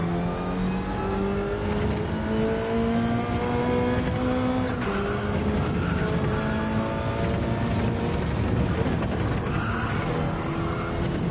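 A race car engine revs hard in Gran Turismo 7, climbing through gears in rising whines with shifts, loud and close, with brief tire scrub during oversteer and no talking.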